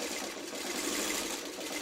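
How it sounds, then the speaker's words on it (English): A sewing machine runs steadily and close as it stitches around a curve of a Dresden quilt medallion, with an even, continuous whirring hum and no pauses. "Now we're going to sew around the top of the curve."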